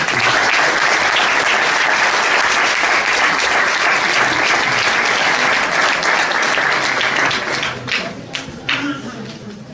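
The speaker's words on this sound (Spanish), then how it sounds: "Últimos aplausos para el invitado." Loud, sustained applause from a lecture audience for a guest speaker, many hands clapping in a thick wash that thins and tapers into a few scattered claps near the end.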